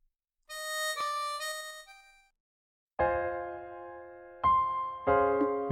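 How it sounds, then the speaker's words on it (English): Title music from the Trails in the Sky SC video game, starting with a bright chime-like phrase, then after a brief silence moving into sustained tonal chords that rise in steps. No voices. "that's the sound of the title music"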